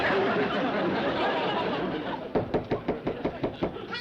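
A quick run of loud, evenly spaced knocks on a door in an old radio drama, about eight raps coming after a stretch of rushing background noise.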